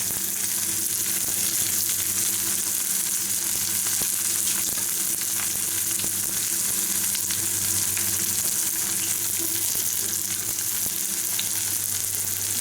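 Green chili and curry leaves sautéing in hot oil in a pan for an egg roast, a steady loud sizzle and crackle that runs unbroken throughout with no voices.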